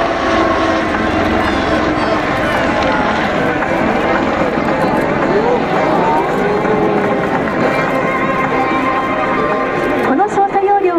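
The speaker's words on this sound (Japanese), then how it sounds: "右に大きく上昇旋回をして、その後水平飛行に復帰します。" A Kawasaki OH-1 helicopter flies a wide climbing turn during flight test demonstrations at the 2014 Akeno air base air show, its engine and rotor roaring loud and continuous with a shifting whine.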